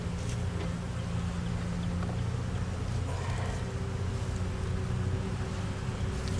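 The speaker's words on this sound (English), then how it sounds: "got a pound or so of bees at least" Honey bees buzz around an open hive box during queen grafting, a continuous close droning hum with a low steady tone, constant and fairly loud with no speech.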